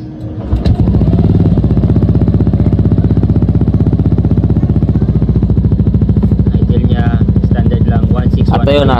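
A Yamaha NMAX V2 scooter engine cranks and catches, then settles into a loud, close, steady idle with a fast even throb; someone talks over the running engine near the end.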